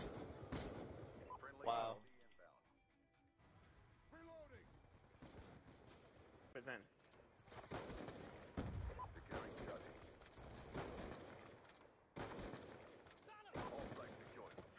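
Rapid bursts of gunfire in a shooter video game, dense and continuous with short gaps, mixed with game effects while a player talks briefly over it.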